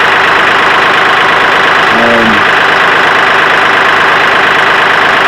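A Kioti CK3510 tractor's diesel engine idles right after starting, loud and close with a constant rumbling drone and a short tonal squeal midway.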